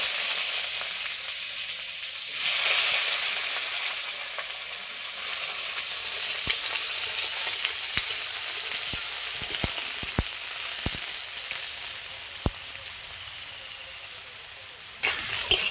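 Eggplant slices frying in hot mustard oil crackle in a loud, continuous sizzle that swells once the pieces go in, with scattered sharp pops and spits throughout and no talking.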